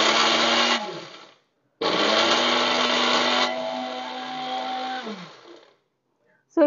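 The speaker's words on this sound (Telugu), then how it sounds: "సో పప్పుల్ని మిక్సీకి వేస్తున్నాను అనమాట, పౌడర్ లాగా చేస్తున్నా" A mixer grinder pulverising roasted gram into powder runs in loud whirring bursts: one short pulse, a pause, then a longer grinding run that drops in pitch midway before cutting off, with a brief restart at the end.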